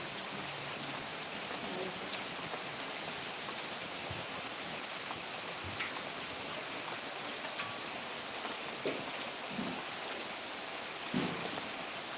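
Rain falls steadily, a soft broad hiss with scattered drips and taps standing out now and then, fairly quiet and without voices.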